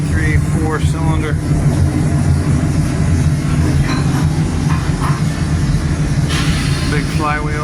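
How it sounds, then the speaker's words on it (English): Four-cylinder diesel engine running aboard the larger ship Fram 2, a steady loud low mechanical drone filling the space throughout, with someone talking over it. "It's got a serious diesel motor. 1, 2, 3, 4 cylinder."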